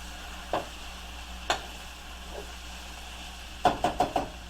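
Breakfast taco ingredients fry in a pan with a quiet, steady sizzle, broken by a few soft scraping knocks and a quick cluster of taps near the end; no one speaks.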